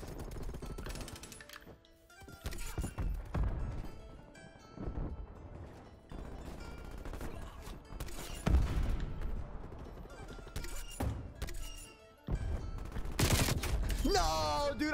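A PPSh-41 submachine gun firing in a first-person shooter video game, with repeated loud rapid bursts of automatic fire at varying length, clattering impacts between volleys and occasional player voices.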